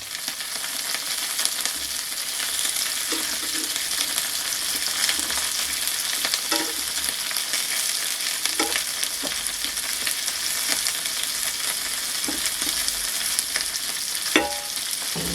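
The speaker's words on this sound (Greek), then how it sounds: "Δεν τις τηγανίζουμε για πολλή ώρα." Shrimp fry in a pan with a steady, loud sizzle throughout, and occasional small clicks and scrapes stand out as they are turned. No one speaks.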